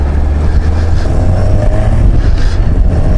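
A Yamaha XJ900S Diversion motorcycle pulls hard up through the gears, a loud steady engine drone dominated by deep low rumble and wind buffeting, recorded close from the rider's position.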